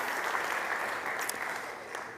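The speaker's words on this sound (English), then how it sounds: "Big applause for Chris." A short burst of dense audience applause at a South Summit 2023 startup stage winner announcement in Spain, many hands clapping steadily at moderate volume before tapering slightly.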